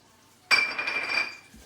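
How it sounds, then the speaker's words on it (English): A cast iron pan gives a single loud metallic clink as it is picked up in a home kitchen, followed by a ringing tone that fades over about a second. "I'm going to cook these in a cast iron pan, so let me get that."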